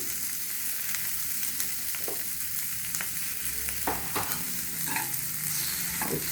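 Mirchi vada mixture stirred after salt goes in, giving soft scraping and a scattering of small clicks from a spoon against the vessel over a low background hiss, without any voices.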